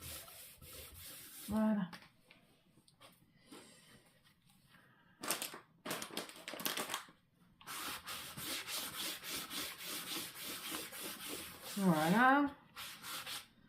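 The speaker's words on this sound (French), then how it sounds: "Ça, je vais enlever mes surplus de colle." Surplus glue is scraped and rubbed off an album binding in short, dry, close scraping strokes that come in bursts with pauses between them, and a voice speaks briefly.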